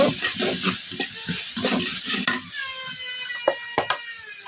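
A wooden spoon stirs spices, salt and turmeric through hot soybean oil in a frying pan, making steady rhythmic scraping strokes over a soft, continuous sizzle. Near the end come a few sharper knocks against the pan.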